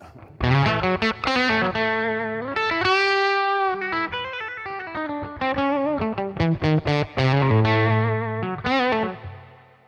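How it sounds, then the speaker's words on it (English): Distorted electric guitar through an Albion TCT-35C amp, a melodic lead line with chords washed in digital reverb, played steadily and loud with no voices. "Digital reverb, very cute."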